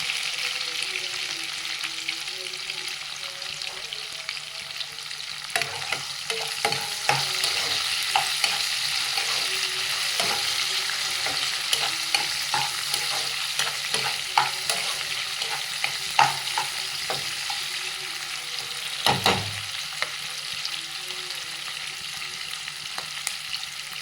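Onions sauté with a pinch of salt in a pan for tomato biryani, frying with a steady sizzle while a spoon scrapes and taps now and then, one heavier knock near the end.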